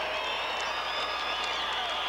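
An indoor track and field arena crowd of about 8,000 at the Golden Spike meet in Pocatello gives a standing ovation, a steady distant roar of applause and cheering without a break.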